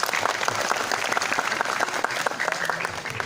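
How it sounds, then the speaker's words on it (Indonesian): An audience of students at a madrasah new-student orientation session bursts into dense, sustained applause, many hands clapping steadily and fairly close throughout. "Oke, tepuk tangan."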